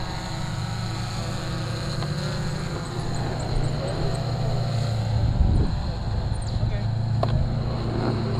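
A radio-controlled model airplane takes off at an outdoor flying field on a windy day, its steady propeller drone holding loud and close, rising slightly in pitch midway, with brief spoken words over it.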